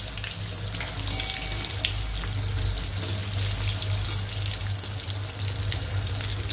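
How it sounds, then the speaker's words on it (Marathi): Kat vadas deep-frying in hot oil over a medium gas flame give a steady, continuous sizzle and bubbling that stays even throughout, close by and with no talking. "थोडे थोडे वडे घेऊन असे आपल्याला तळायचे"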